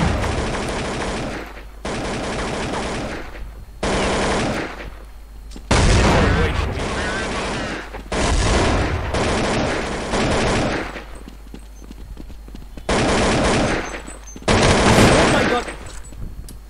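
Rapid automatic AK-47 fire in Counter-Strike, loud and close, coming in repeated bursts of sustained rattling shots with short pauses between volleys.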